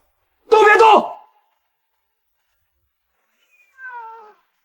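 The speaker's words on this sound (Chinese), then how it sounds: "就是一只野猫！" A feral cat gives one loud, close meow, then after a few seconds of silence a second, fainter and thinner meow.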